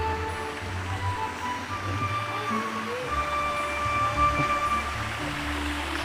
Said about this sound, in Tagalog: Ayan ang waterfalls.